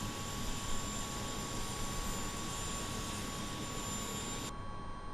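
Engine startup sound of an MV-22 tiltrotor mod in Flight Simulator 2020, a loud steady aircraft-style roar with an auxiliary power unit, holding evenly for several seconds before its high hiss abruptly cuts out near the end.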